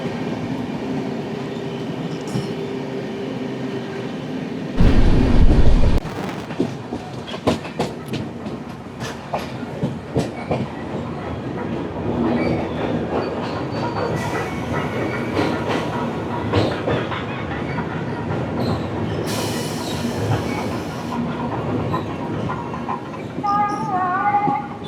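Train 11013 from Mumbai rolls into Coimbatore North station with steady rhythmic clickety-clack from the wheels, a brief loud burst early on, scattered clanks and squeals, and rumbling carriage noise throughout.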